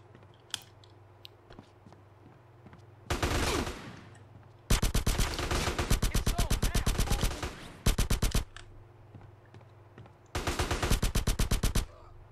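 Gunfire in GTA San Andreas, several loud bursts of rapid automatic shots, each lasting a second or two, separated by quieter stretches with a low hum and a few isolated clicks.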